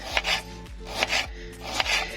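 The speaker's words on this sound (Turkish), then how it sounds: "Küçük boy 4 tane soğan doğruyoruz bunu" A knife chops small onions steadily on a cutting board, three or four crisp strokes with a short scraping sound between each. Close and fairly quiet.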